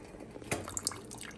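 Homemade Alfredo sauce bubbles in a pan on the stove, soft wet pops and blips scattered irregularly over a faint kitchen background, close and quiet with no talking.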